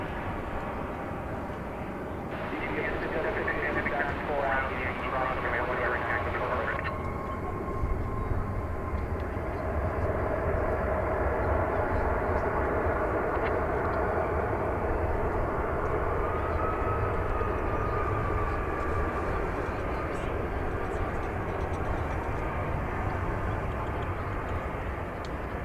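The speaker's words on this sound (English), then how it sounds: "Now scooting across runways 18 right and left is the MD-11." An MD-11 airliner taxis across runways 18 right and left at DFW Airport, its steady jet engine roar continuous and fairly near, with a brief higher whine early on and no voices.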